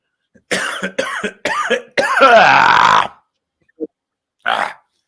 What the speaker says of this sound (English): Yeah, we all have these coughs.